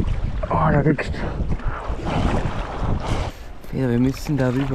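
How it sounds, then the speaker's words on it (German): Strong wind roars and buffets the microphone as people paddle a small boat on open water near a stranded cargo ship, with people talking over the gusts. "Oh, dieser Wind, wir kommen da nicht drüber."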